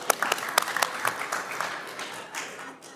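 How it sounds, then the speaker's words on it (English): An audience at a live talk claps hands, starting with scattered sharp claps that blend into a brief, fairly quiet round of applause fading after a few seconds. "just clap your hands"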